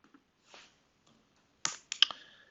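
Typing on a computer keyboard: a few soft taps, then a quick cluster of sharp, close keystroke clicks near the end, with quiet gaps between them.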